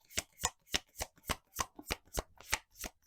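A deck of tarot cards is shuffled by hand in quick crisp riffles, about a dozen soft slaps in an even rhythm, close and quiet, with no talk.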